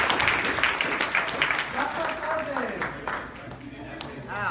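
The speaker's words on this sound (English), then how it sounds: "Give her some claps, please." An audience at a university talent show banquet claps and cheers for a dance performer, a dense close wash of applause with voices mixed in throughout.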